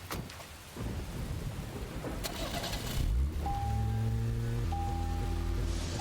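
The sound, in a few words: rain and thunder in video game Deadly Premonition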